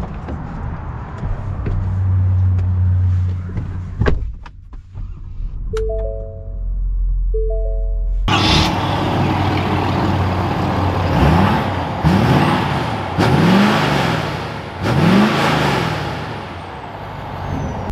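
A 2021 Ford F-350 King Ranch truck starts off: a low idle and a few chimes give way to a loud, close diesel engine surge, with rising revs and several gear-shift swells as it pulls away.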